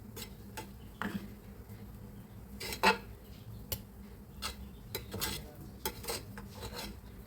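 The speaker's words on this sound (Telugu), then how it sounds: "సో ఇప్పుడు దీని రైస్ని అంతా ఒకసారి కలిపేసుకుందాం." A spoon stirs cooked vegetable pulao rice inside a pressure cooker, producing faint, scattered metallic scrapes and clinks at an uneven pace over a soft kitchen background.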